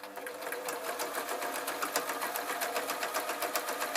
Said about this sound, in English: now my machine's making that sort of noise that's going to tell me that the bobbin's going to run out